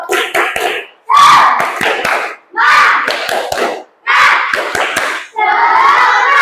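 Students perform a rhythmic spirit clap in a classroom, loud bursts of clapping in repeated patterned phrases, each burst a quick run of claps separated by short silent gaps, likely with chanting voices mixed in.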